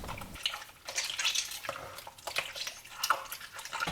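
Soursop fruit squeezed by hand in water, producing continuous wet squelching and sloshing with small drips and splashes, close and steady throughout.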